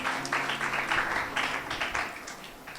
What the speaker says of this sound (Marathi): तुम्हाला पटलं तर जोरात टाळी वाजवा.